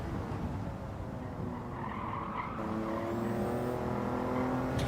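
A racing car in a driving game climbs through its gears. The engine drone rises steadily in pitch with a shift partway through, joined by some tire squeal, loud and continuous.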